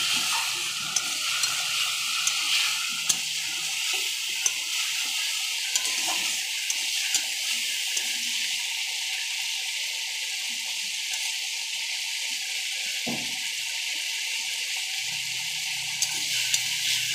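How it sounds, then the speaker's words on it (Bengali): Cabbage and potato sizzle softly with spices in a hot pan, a steady faint frying hiss with occasional clinks and a brief stirring scrape, no voices. "মশলার সঙ্গে একসঙ্গে ভাজা হয়ে যাবে।"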